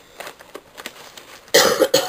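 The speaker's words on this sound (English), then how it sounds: "Sorry for coughing, guys." A single harsh cough from a person with a chest cold bursts out near the end, loud and close, after a stretch of quiet breathing and faint rustling.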